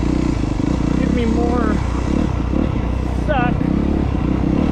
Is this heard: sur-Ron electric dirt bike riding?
yes